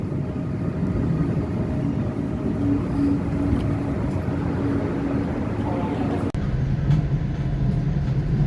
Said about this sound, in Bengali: আমার ট্রেন অলরেডি চলে আসছে, এই ট্রেনটাতেই যাব সামারখান